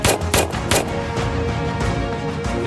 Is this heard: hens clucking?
no